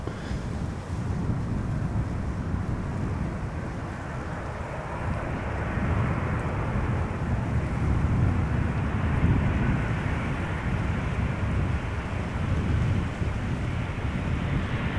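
Transavia airliner landing at Amsterdam Schiphol Airport on a sunny day, a sustained broad roar rising and swelling under steady wind buffeting the microphone.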